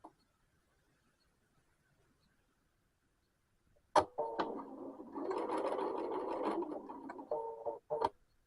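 Sewing machine stitching a shirt collar, easing the under collar to the upper collar along a stitch-plate guide line: after about four seconds of quiet, a steady close whirring run with a brief pause and a short final burst.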